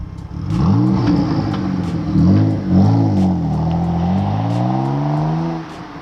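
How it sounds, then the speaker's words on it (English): A 1993 Mitsubishi 3000GT VR-4 sports car under way, its engine rising and falling through several revving pulls, loud and close, with a steady whir beneath and no talking. "So we're gonna take this car for a drive."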